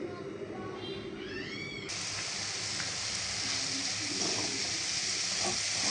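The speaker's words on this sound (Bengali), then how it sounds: "এবার আমি ভালো করে মেখে শুটকিগুলো ভেজে নেব মশলার মাঝে।" Dried fish (shutki) frying in hot oil with spices in a pan, a steady close sizzle that turns brighter and fuller partway through and stays loud to the end.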